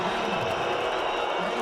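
A Fenerbahce volleyball crowd in an Istanbul arena at a CEV Champions League match against VakifBank keeps up a dense, continuous roar of cheering and noise, broad and sustained across the short moment.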